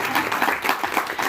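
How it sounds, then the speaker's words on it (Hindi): Short, dense burst of applause from the audience at a national meeting of a traders' federation, many hands clapping steadily at close range. "तालियां होनी चाहिए,"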